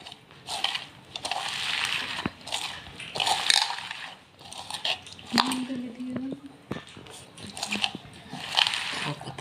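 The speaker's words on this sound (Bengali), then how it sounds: "দেখুন, এগুলো আমি ভালো করে একটু চটকে নিচ্ছি।" Chopped onion and ginger are squished and mashed by hand in a bowl, producing soft wet crushing and squelching bursts at an uneven pace, close and fairly quiet, with brief clinks from the bowl.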